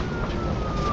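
A police car siren in a video game wails briefly and loudly, a short rising electronic tone lasting about a second, with no voices.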